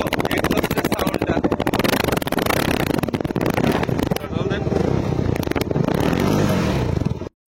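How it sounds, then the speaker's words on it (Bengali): A CF Moto SR motorcycle, 250 or 300 SR, idling after being started, a loud, steady, close-up engine drone that runs without a break and then cuts off abruptly at the end. "তো আমি বাইকটা স্টার্ট করে আপনাদেরকে দেখাই"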